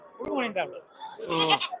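Goats bleat loudly and nearby at a crowded livestock market in Tamil Nadu, with two wavering calls over a background of voices.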